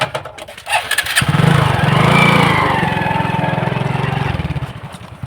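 A motorbike's engine is key-started on a village outing, catching after a brief crank and settling into a steady, loud, close idle that throbs evenly for several seconds.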